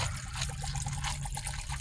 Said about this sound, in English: I'm going to go ahead and crack it open here and pour it in my cup